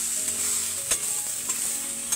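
Leaves and spices fry in hot oil with a steady close sizzle, broken by a few short stirring clicks and scrapes.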